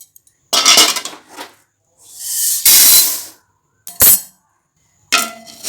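Roasted urad dal, browned in a pan while making idli podi, poured out with a loud, gritty rattling and clinking in a few separate bursts, including a longer sustained pour, with no talking.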